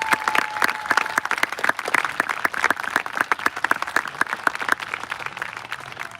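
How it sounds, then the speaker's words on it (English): Audience applause at a Chabad synagogue celebration welcoming a new Torah scroll, a dense, steady patter of many hands clapping that continues evenly throughout, close and fairly loud. "So let's give it a big round of applause for Joy Silverstein."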